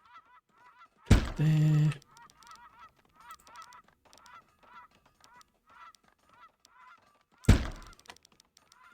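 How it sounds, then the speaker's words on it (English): Geese honking in the Farthest Frontier video game, a run of short nasal calls repeating at a distance, broken by two loud thumping bursts and a brief spoken word. "There's a lot of geese around at the minute, it seems."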